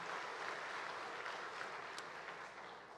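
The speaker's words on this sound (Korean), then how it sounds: "박수를 보내주십시오." A church congregation applauds a choir after its performance, a steady broadband wash of clapping that holds evenly throughout at a moderate, slightly distant level with no voices.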